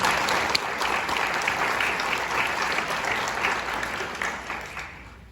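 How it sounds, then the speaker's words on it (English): Dense audience applause for high school students at a school event, a full crowd clapping continuously and fairly loud, tapering slightly toward the end. "So let's give them a round of applause up here"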